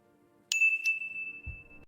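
A notification bell sound effect gives a bright ding with a second quick strike, then a long sustained metallic ring that fades under a low thump, with no voices.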